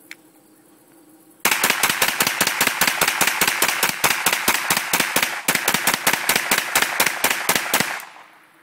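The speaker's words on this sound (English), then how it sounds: "We're gonna try and do some rapid fire from the hip and see how this thing works." A Kel-Tec Sub 2000 9mm carbine fed from a Glock magazine is fired rapidly from the hip outdoors, a loud, fast string of about thirty evenly spaced shots with a brief hitch midway, then silence.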